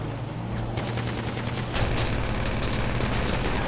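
Sustained gunfire in GTA Online, dense rapid volleys with an engine rumble beneath, loud and continuous throughout and growing slightly heavier midway, with no talk over it.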